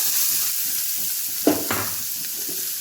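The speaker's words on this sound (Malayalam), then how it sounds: "ഉഴുന്ന് ഇതുപോലെ കളർ മാറി വന്നു കഴിഞ്ഞാൽ ഒരു വലിയ സവാള കട്ട് ചെയ്തത് ഇട്ട് കൊടുക്കാം" A chopped large onion dropped into urad dal frying in oil, a steady close sizzle with a sharp burst as the onion goes in, followed by stirring scrapes.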